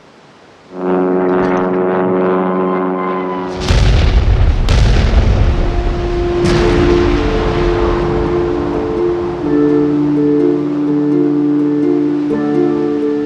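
A 2,000-pound aerial bomb explodes against a captured German battleship: several heavy booms and blasts land over a steady droning tonal backdrop, loud and rumbling, with the roar trailing on afterward.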